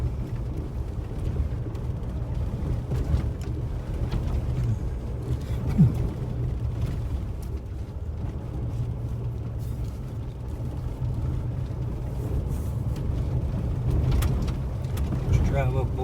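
A car drives along a desert road near the Palamosa Road area, its engine and tyre rumble a steady low drone throughout, close and continuous with no clear talk.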